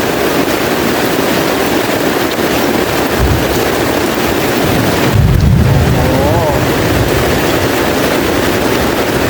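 Heavy rain pours in a rainforest near a border, a dense, constant roar of rainfall close to the microphone with gusty rumbling, while someone talks briefly partway through.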